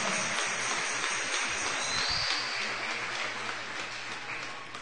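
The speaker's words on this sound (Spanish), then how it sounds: "denle un aplauso fuerte" A congregation applauds a newlywed couple at a church gathering, a dense sustained wash of clapping that continues loudly for about five seconds.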